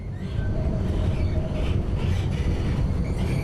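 A tram running on rails in the City Transport Simulator video game, a steady loud rumble of wheels and motor throughout with faint high squeals, no talking.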